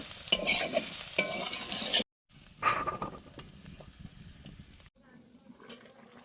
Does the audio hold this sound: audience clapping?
no